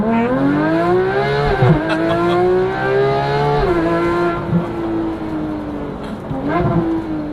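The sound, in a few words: Porsche GT3 engine accelerating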